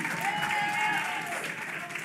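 An audience at a community outreach session breaks into steady applause and cheering, a dense, sustained wash of clapping with voices rising above it throughout.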